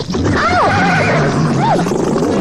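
A horse neighs in an Indonesian radio drama: a loud, close whinny with wavering rising and falling cries, repeated twice over a dense background of effects.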